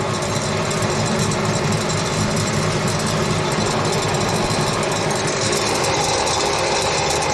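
A grain extruder motor processing soybeans runs steadily with a dense, even mechanical drone and rattling vibration, loud and continuous throughout.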